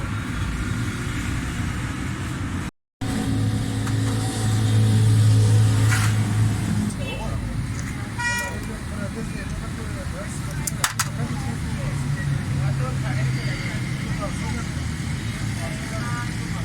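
Three-cylinder engine of a Suzuki Cultus running steadily with a pick-up misfire and fuel problem, a continuous low rumble close by with a brief dropout early on, while someone talks over it.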